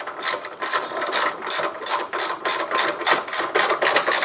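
A half-inch ratchet wrench clicks rapidly on car motor mount bolts on a Neon, loud close bursts of pawl ratcheting repeating in a steady back-and-forth rhythm.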